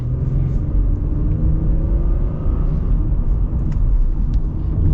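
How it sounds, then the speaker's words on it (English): Honda Passport RTL V6 with a 10-speed automatic, heard from inside while driving: a steady, smooth low engine and road rumble, constant and fairly loud, with no talking. "I like how smooth this V6 is."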